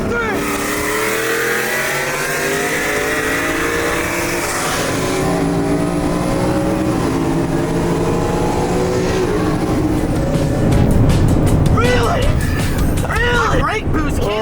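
A Dodge Hellcat and a twin-turbo Ford F150 launch side by side in a street race, engines roaring and revving up through the gears, loud and close, with people talking over the noise.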